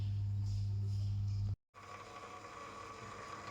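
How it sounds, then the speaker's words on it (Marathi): A washing machine runs while filling with water, giving a steady loud mechanical hum with faint rattling. The sound cuts out briefly partway through, then resumes with a lighter, busier churning. "वॉशिंग मशीन लावली."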